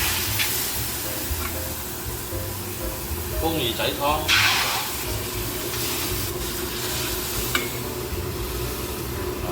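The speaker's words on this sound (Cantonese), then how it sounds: "煎一煎先，呢個蝦就香落去啦" Shrimp fries in a wok with a steady sizzle and stirring scrapes, and a louder hiss flares midway as liquid hits the hot pan, all under continuous talk.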